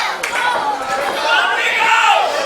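A wrestling crowd at an AMP show chants and roars loudly and continuously, a dense wash of many voices with scattered claps swelling toward the end.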